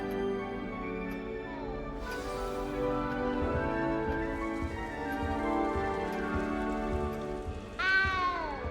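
A cat in the game Hogwarts Legacy mews over a steady bed of music and ambience, with a sharper, louder meow rising near the end.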